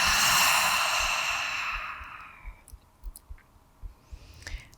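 A long, breathy exhale through the mouth starts strong and slowly fades over about two and a half seconds, followed by soft clicks and quiet mouth noises.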